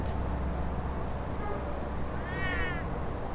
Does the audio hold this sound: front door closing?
no